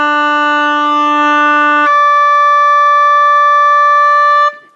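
An oboe holds a steady low D, then, with the top finger moved to the half-hole position, jumps to the D an octave higher and holds it; both notes are sustained, loud and clear, alone with no talking.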